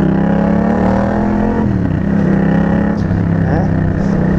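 Yamaha MT-07 motorcycle fitted with a full sport exhaust, a loud steady engine drone with shifting harmonics throughout, a voice speaking over it.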